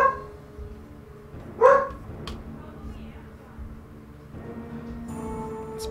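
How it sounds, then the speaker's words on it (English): A pet dog named Jojo lets out one sharp close bark, followed by a faint second yip, with a person speaking quietly in the room around it. "My dog's getting crazy now."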